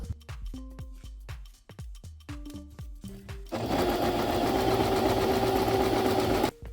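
A sewing machine stitching the ends of fabric, starting with a series of short needle bursts and stops, then running in one long steady loud whirring stretch before cutting off.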